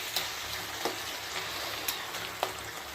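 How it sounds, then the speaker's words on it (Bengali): Cabbage cooking with a fish head in a pan, a soft steady sizzle with faint bubbling and a few light clicks, quiet and close. "বাঁধাকপিটা মাছের মাথা দিয়ে রান্না হচ্ছে"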